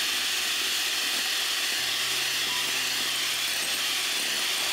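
Egg whites with a third of the fine sugar added are whipped by an electric mixer at medium-high speed, a continuous loud whirring drone whose tone drops and settles after a couple of seconds.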